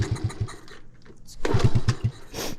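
A 1969 Honda Z50 mini bike gets kick-start attempts on a cold engine, giving two bursts of rapid low putting pulses separated by a quieter gap, with a brief rustle between them.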